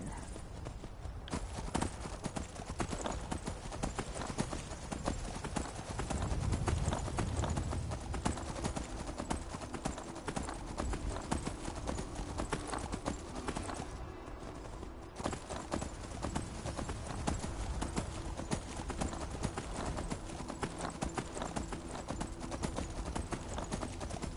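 A horse gallops in Skyrim, its hooves making a steady, rapid clip-clop across the ground. The galloping runs close and continuous for the whole stretch under dense game ambience, and a brief whinny can be heard.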